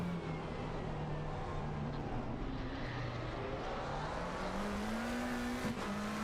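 GT3 race cars in a sim racing game at Circuit of the Americas, engines droning steadily with rising and falling pitch as the cars run close together through the lap, continuous and fairly loud.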